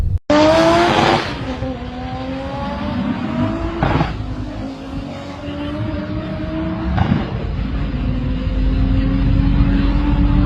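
A BMW 340i launches down a drag strip against a Jaguar with a loud engine roar and rising gear-shift pulls, tire noise at the start, then the engines drone on with further shifts.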